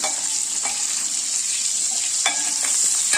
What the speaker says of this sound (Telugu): ఇలా ఒక్కొక్కటి వేసేసుకొని ఇదిగోండి వేగుతున్నాయి